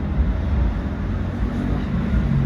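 A Brussels tram runs steadily on its rails with a low, continuous rumble and rolling noise, heard from inside at moderate volume with no voices.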